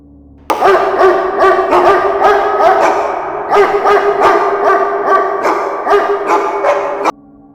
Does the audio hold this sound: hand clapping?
no